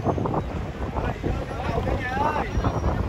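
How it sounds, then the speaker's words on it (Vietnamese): Wind buffets the microphone beside the Mekong River as a ferry arrives, with low rumbling water and engine noise and a faint whistle-like tone underneath, while people talk nearby throughout. "chuyến phà đã đến và chúng tôi bắt đầu lên phà"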